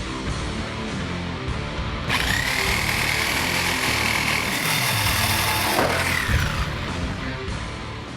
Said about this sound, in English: To remove the stock exhaust system, unfortunately, you do have to cut it in half